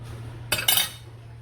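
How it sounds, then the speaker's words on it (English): A spoon knocks against a bowl while dry cake ingredients are mixed, producing two quick, bright clinks close together, then quiet. "I just mix these dry ingredients and set aside."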